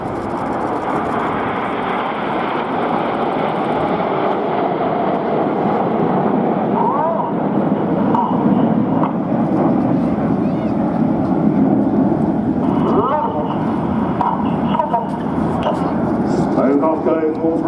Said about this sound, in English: Red one about to call the aircraft into the next of our historic formations